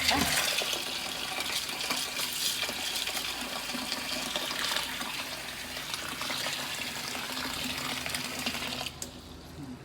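Moong dal being rinsed under a running kitchen tap, a steady close splashing and swishing of water over the lentils that cuts off near the end, with a brief spoken word.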